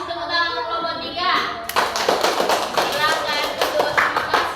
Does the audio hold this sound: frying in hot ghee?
no